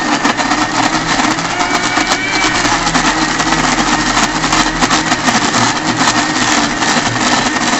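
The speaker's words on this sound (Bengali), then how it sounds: "এখন এটাকে ব্লেন্ড করে নিব" A blender whirs butter for homemade process cheese in a loud, continuous motor drone that stays steady throughout.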